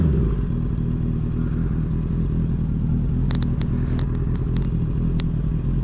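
A Honda CBR 650R motorcycle engine runs with a steady, close, loud rumble, holding an even note throughout, with a few light clicks near the end.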